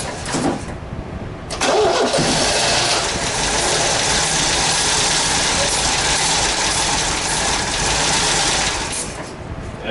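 A 1974 MGB GT engine cranks and sputters as it tries to catch, loud and close, with a steady rough churning that carries on for most of the stretch.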